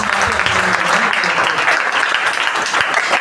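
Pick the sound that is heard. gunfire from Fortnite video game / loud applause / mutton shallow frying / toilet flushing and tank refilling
loud applause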